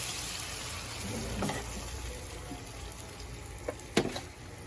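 Pork for adobo ribs hits a hot pan, a continuous close sizzle with a few clinks and bumps of the pan, heard alone without talk.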